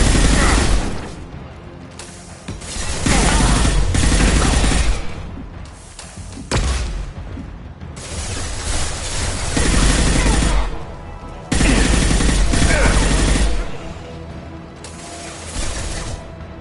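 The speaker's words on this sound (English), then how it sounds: "Taking heavy fire!" Heavy video game gunfire comes in long, loud automatic bursts with short gaps between them, sounding close and mechanical and roughly rhythmic, and there is no talking.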